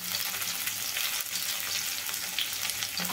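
Sliced onion, a dried red chilli, cumin seeds and curry leaves fry in hot oil in a pan, giving a steady close sizzle and crackle with no talking.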